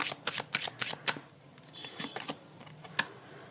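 Tarot cards are shuffled by hand in a quiet room, a quick run of crisp riffling flicks and soft slaps close up, then a few lighter taps and one sharper snap.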